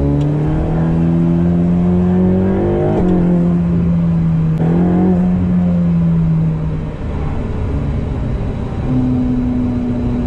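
A Ferrari 488 Pista's engine pulls hard through rising revs, with distinct gear-shift breaks at about three and four and a half seconds, heard loud from inside the car and then settling to a steadier tone.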